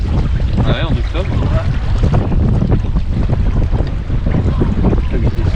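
Strong wind roars steadily across a sailboat at anchor, a continuous loud gusting rush with a faint voice briefly audible early on.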